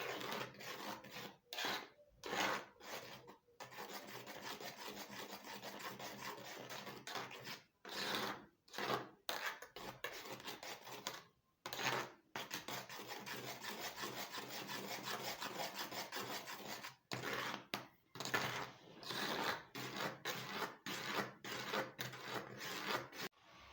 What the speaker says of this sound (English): Keep stirring it properly well.